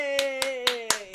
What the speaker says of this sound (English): Round of applause, Amy.